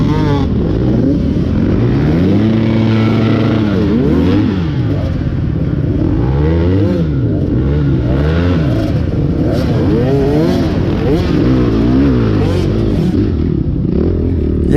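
Many off-road dirt bikes in a crowded woods cross-country race rev and bog, their two-stroke engines rising and falling in overlapping pitch sweeps, loud and close, with clattering as riders crawl through a jam.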